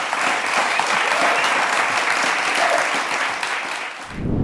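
Dense, continuous applause from a crowd filling the space for about four seconds, steady and loud, then cutting off abruptly near the end.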